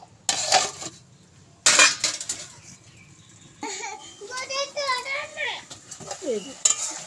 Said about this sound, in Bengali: দিয়ে দেবো করলা ও আলু এটাও সাথে কষাই নেব